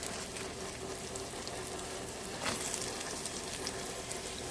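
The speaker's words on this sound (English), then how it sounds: "I'm just going to add some onion to this pan" Chopped onion frying in a pan, a steady soft sizzle with faint crackle throughout and a brief louder burst midway, with no talking.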